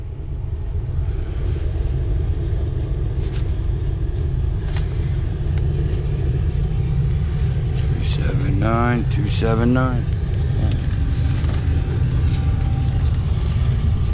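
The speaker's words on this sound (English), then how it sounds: "there's that train. That's a coal train." A coal train rolls into a railyard with a continuous low rumble that stays loud throughout. A brief horn-like tonal burst sounds partway through, and someone talks over the noise.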